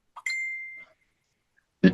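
A mobile phone sounds a single short notification ding, a clear ringing chime that fades over about half a second in a quiet room, followed after a pause by a brief bump.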